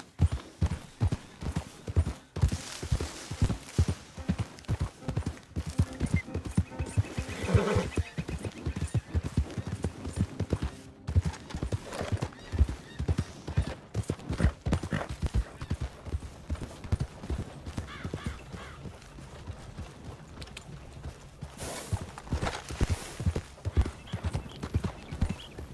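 A horse ridden at a steady walk gives a continuous run of close, crisp hoof clip-clops in even rhythm, with a brief voice urging it on and a faint whinny.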